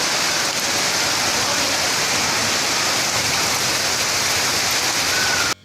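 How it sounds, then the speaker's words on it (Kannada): Heavy rain pours down during a windstorm, a loud, steady, dense hiss that holds unbroken for several seconds before cutting off abruptly, with no talking. "ಇವತ್ತು ಜೋರು ಮಳೆ ಬಂತು ನೋಡಿ ಮರಗಳೆಲ್ಲ ಹೀಗೆ ಅಲ್ಲಾಡ್ತಾ ಇದೆ"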